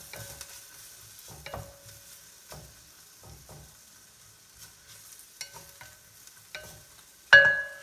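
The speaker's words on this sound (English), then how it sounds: "We've sauteed our onions and our garlic." Onions and garlic being stirred in a pan for a healthy Thanksgiving soup: soft scrapes and light clinks of a utensil in scattered bursts over a quiet sizzle, with one sharper knock near the end.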